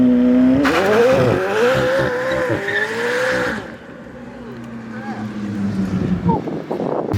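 A McLaren 765LT doing a rolling burnout, heard from outside the car: a loud engine roar with rising revs and screeching wheel spin that fades into a lower drone as the car pulls away.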